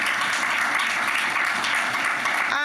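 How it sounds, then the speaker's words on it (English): Audience applause for Parliament of St. Lucia staff at a gender equality workshop, a dense, steady wash of many hands clapping close by that fills the whole moment, ending with a brief tonal sound. "Let's give them another round of applause"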